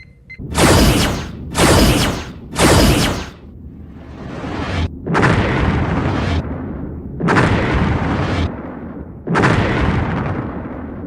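Torpedoes and explosions in a Star Trek video game: three rapid loud blasts, then a rumbling swell and three more long booming bursts, each followed by a decaying roar.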